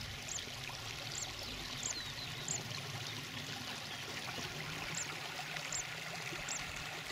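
A small stream runs through a valley on a walking route between Valladolid and Medina de Rioseco, giving a soft, continuous trickling flow with faint chirps above it and no voices.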